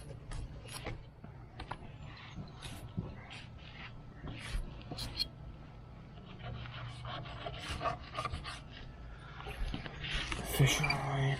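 A knife trims belly meat off a cleaned walleye, making soft irregular scraping and rubbing strokes close up, with a few sharper cuts and clicks near the end.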